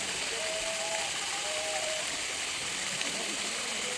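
Flowing stream water in a lush green outdoor setting, a steady broadband rushing wash running evenly throughout with no gaps, moderately loud and close, while faint birdsong-like whistles drift in briefly near the start.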